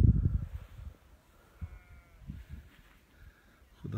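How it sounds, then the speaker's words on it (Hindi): A flock of sheep bleats on a cloudy mountainside in Ganga Choti, Bagh, Azad Kashmir, with a few scattered bleats near and far over quiet low rumble. "ये भी ये भेड़ों का जो रेवड़ है बादलों में गुम हो जाएगा"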